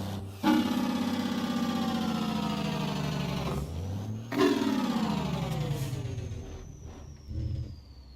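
Truck engine brake in a trucking video game, with a Kenworth K100E or Peterbilt 379: a loud, rising and falling mechanical drone in two long sustained pulls, then a brief rumble.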